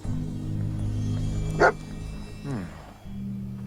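Dog companion in the video game Fallout: a short, close bark bursts out over a steady low in-game hum, followed by a brief whimpering whine.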